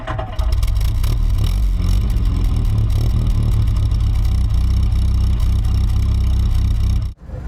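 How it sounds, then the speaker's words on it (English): A Mini's engine runs steadily at close range while the car drives, giving a loud, continuous low rumble with no talk before it cuts off near the end. "let's go for a drive"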